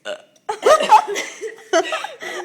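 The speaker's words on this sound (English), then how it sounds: "honestly can't burp like that" A loud, close, drawn-out burp lasting about a second, followed by further throaty croaking sounds, with young women nearby.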